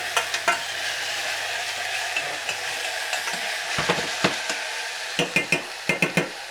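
Garlic flower hits a hot pan and frying sizzle hisses throughout, punctuated by quick rhythmic clicks and scrapes of stirring that cluster in a brisk run near the end; close, with no one talking.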